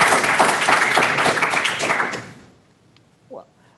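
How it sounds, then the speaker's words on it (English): A round of applause from the audience at the We the People National Finals, Sheridan High School, Wyoming, dense and loud for about two seconds before fading out, followed by a short voice. "the judges very much appreciate that round of applause for us"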